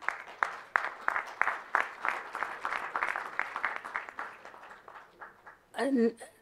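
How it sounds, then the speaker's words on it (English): An audience claps at a medical lecture on preconception care and hyperglycemia: a steady run of distinct, fairly close hand claps that thins out, followed by a brief burst of louder sound at the end. "Sir deserves a big clap of hand."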